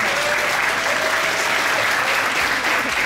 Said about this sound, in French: on peut applaudir ça très fort